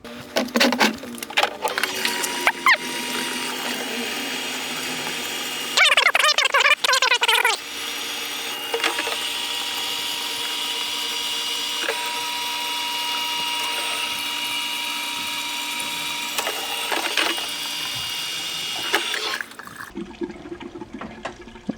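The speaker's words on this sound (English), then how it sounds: "I have a transfer pump right over here off camera. I'm going to go ahead and transfer it out into cans" A fuel transfer pump runs continuously, drawing E85 out of an X3 car into fuel cans. It makes a steady mechanical whir with liquid gurgling and brief sloshing bursts before it stops near the end.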